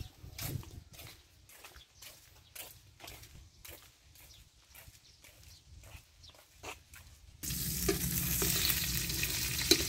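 Dry fish frying with sugar in a pan, giving a steady crackling sizzle with repeated stirring scrapes, then swelling into a loud, dense hiss for the last few seconds.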